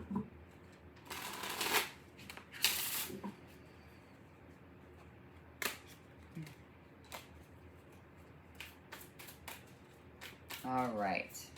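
Tarot cards shuffled by hand in short riffling bursts separated by quiet pauses, with scattered taps and a brief soft voice near the end.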